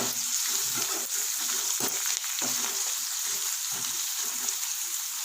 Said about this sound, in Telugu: ఇది ఇట్లా నూనెలో ఫ్రై కావాలి